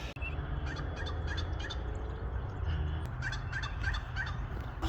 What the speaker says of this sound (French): Ça ressemble à des dindons sauvages,